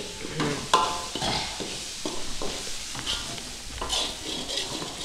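Food for mushroom manchurian is sautéed and stirred on low heat in a pan, repeated spatula scrapes over a gentle continuous sizzle, close up with no talking.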